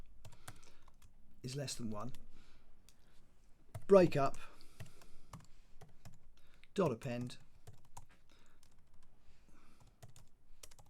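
Computer keyboard typing, quick light key clicks running under a man's speech during a Cinema 4D tutorial.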